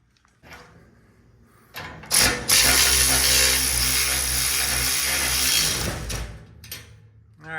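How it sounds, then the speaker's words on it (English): Ratchet wrench tightening a bolt on a steel yard-work fitting, a loud burst of clicking and grinding mechanical noise lasting a few seconds between quieter taps and handling sounds, heard up close. "just give a couple ratchets on that to see how tight it feels"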